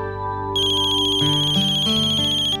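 A phone ringtone plays loudly and steadily, a bright repeating electronic melody that lasts the whole short stretch with no talking over it.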